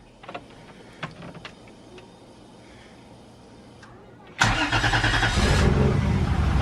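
A BMW E46 with a swapped-in 2JZ turbo engine cranks after a few clicks and small clunks, then fires abruptly into a loud, steady idle that continues to the end.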